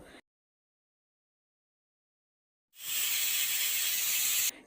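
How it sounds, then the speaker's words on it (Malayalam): A loud, steady hiss of steam bursting from a pressure cooker whistle after a long silence, continuous and close for nearly two seconds before cutting off abruptly, while cooking jackfruit biryani. "ഇനി ഇതാ നമ്മളെ കുക്കറിൽ വിസിൽ വന്നിട്ടുണ്ട്"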